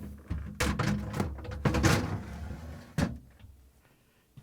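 A plastic crisper drawer slides into a Samsung refrigerator with a steady run of close rattling scrapes and clunks, then one sharp thud as it stops, leaving a faint tail.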